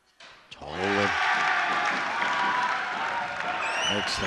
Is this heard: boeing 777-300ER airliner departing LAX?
no